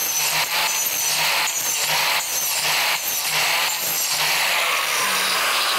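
A Kaindl multi-purpose saw blade cuts through metal, a steady loud broadband grinding with regular rhythmic surges roughly twice per second, close and continuous, with no talk.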